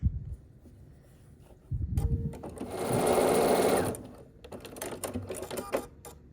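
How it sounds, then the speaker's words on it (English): A sewing machine stitches quilt pieces together along a long edge, a short close burst of rapid mechanical whirring that rises to a steady run for a couple of seconds, with handling clicks before and after. "So I'm just going to sew these together here along this long edge."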